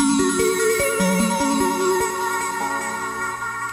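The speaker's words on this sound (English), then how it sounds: "Then I have another one that's like an arpeggiator." A synth arpeggiator cycles quickly through stepped notes over a steady pulsing beat, bright and repetitive at moderate volume.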